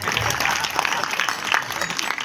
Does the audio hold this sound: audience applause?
yes